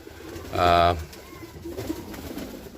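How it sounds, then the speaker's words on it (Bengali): A single short, throaty pigeon coo stands out clearly, followed by quieter background murmuring and faint noise, among young pigeons. "তিন পিস বাচ্চা কবুতর রয়েছে"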